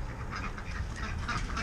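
Ducks quacking in their pen during evening chores, a steady, close, continuous chatter of calls with no talking.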